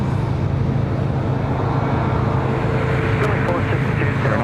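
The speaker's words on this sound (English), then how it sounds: "Do you think that the A220 pilots know that they make such a nice sound?" An Airbus A220 jet at Sydney Airport at night gives a steady broadband engine roar with a faint high whine, constant throughout, under a low murmur of ambient noise.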